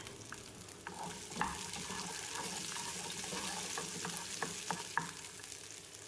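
Tomatoes with small onions sizzle softly in a pan for a Chettinad mutton curry base, a continuous low frying hiss with occasional faint scrapes and clinks.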